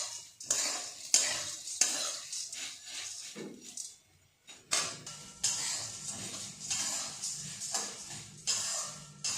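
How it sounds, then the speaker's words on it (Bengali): Food fries with dried red chillies in a pan under repeated scraping stir strokes and light utensil clinks, over a soft sizzle, with a short pause midway and no speech. "শুকনো লঙ্কা দিয়ে আমি অল্প করে লঙ্কা দিয়ে এটাকে ভাজবো"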